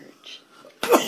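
A man gives one abrupt, sharp cough right at the end after a moment of near silence, loud and close to the microphone.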